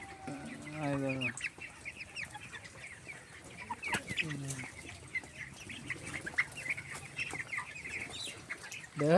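Twenty-day-old broiler chickens on a chicken farm, a crowded chorus of soft clucks and chirps with a few louder calls standing out near the start and middle, close by and steady throughout.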